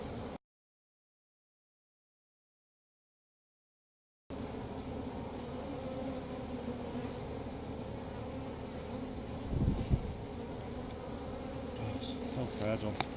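Honeybees buzz in a dense, steady drone during a hive rescue at a high school, close and continuous after a brief silent gap, with occasional handling noises mixed in.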